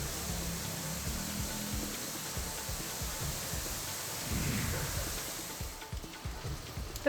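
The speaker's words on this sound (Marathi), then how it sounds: "संध्याकाळी ढग दाटून आले आणि जोरदार पावसाला सुरुवात झाली" Heavy evening rain with thunder, a steady dense hiss of downpour with low rumbling swells, moderately loud and constant, with no voices.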